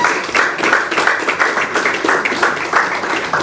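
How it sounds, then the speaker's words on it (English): An audience at a lecture on art law applauds loudly and steadily, with a faintly rhythmic pulse in the clapping throughout. "Please, guys, another round of applause for Charles"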